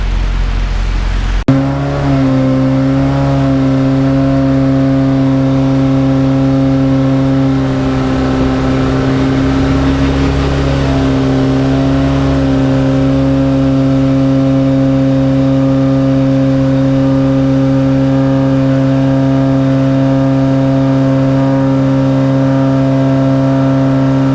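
A K24-swapped Mazda Miata engine drones steadily at a held RPM during tuning, loud and close, with a strong constant tone and a slight swell midway.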